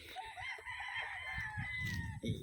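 Young roosters (stags) crow on a farm, with a drawn-out crow ringing clearly over quieter clucking and rustling nearby.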